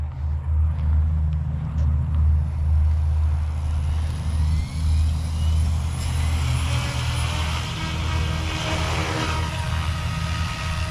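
An OMP Hobby M4 or SAB Goblin RAW 420 RC helicopter running Brain 2 spools up outdoors over a steady low rumble. A rising whine builds from about halfway through and grows louder and brighter toward the end.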